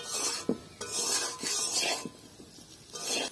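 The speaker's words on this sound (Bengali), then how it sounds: "সব কিছু দিয়ে নাড়াচাড়া করে এগুলো মিশিয়ে দেবো ভালো করে।" Jeera aloo potatoes being stirred with spices in a pan, giving repeated scraping and rasping strokes of a utensil against the pan with faint sizzling beneath, close and steady with no talking.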